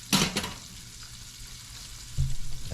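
Honey garlic chicken wings frying in hot oil, a steady soft sizzle with a couple of sharp crackling bursts at the start and a louder spatter near the end, heard close up.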